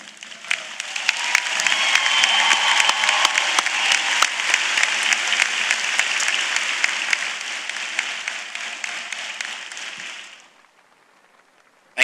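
Graduates and guests at a spring undergraduate commencement applaud the faculty seated behind them, a broad, steady wash of clapping from a large audience that swells, holds for about ten seconds, then stops abruptly.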